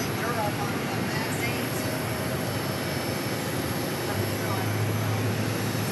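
A Boeing 737 MAX 8 arriving at Phoenix Sky Harbor from Raleigh-Durham gives a continuous loud jet engine roar with a high whine, steady throughout.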